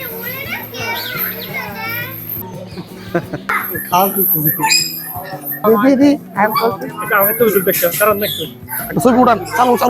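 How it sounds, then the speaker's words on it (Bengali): Parrots of various species in a safari park aviary call with shrill squawks amid the steady chatter and shouts of nearby children. "প্যারট অ্যাভিয়ারি, যেখানে আছে বিভিন্ন কালারের বিভিন্ন প্রজাতির টিয়া পাখি।"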